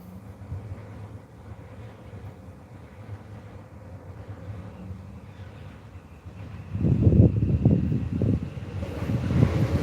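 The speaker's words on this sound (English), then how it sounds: "we've got a train departing from Springvale Station there." Electric suburban train departing Springvale Station, heard outdoors under steady wind noise as a low rumble that grows louder and rougher in the last few seconds.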